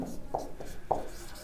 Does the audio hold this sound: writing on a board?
yes